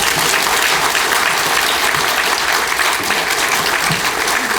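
A roomful of listeners gives sustained, even applause at a lecture on meditation, loud and steady throughout with no break.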